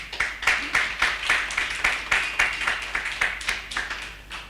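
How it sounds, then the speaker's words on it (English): Audience applause at an education demo day event, a run of distinct rhythmic claps from a small group, steady and moderately close, with no talking over it. "please give her a round of applause"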